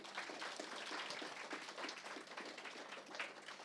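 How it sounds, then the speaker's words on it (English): A small audience at a cultural event claps briefly, a faint, steady patter of applause at a low level with no talk over it. "A round of applause."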